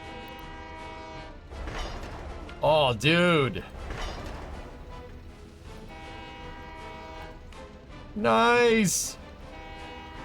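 Trains running in the Workers & Resources city-building game: a steady rail rumble carries throughout, broken by two loud, wavering horn blasts, early and late. Someone speaks briefly over it.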